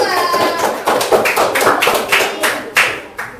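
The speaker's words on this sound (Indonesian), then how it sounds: "Tepuk tangan buat kelompok 2" Students in a classroom clap for a group of classmates, a run of sharp, fairly even hand claps that come close together and sound near.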